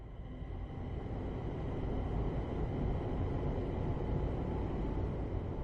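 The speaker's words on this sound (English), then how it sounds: "This train is a Class 350/1 electric multiple unit manufactured between 2004 and 2014 and is part of the Desiro family" A Class 350/1 Desiro electric multiple unit runs steadily in Train Sim World on the West Coast Main Line, giving a continuous low rumbling drone with faint tonal whine that holds an even level throughout.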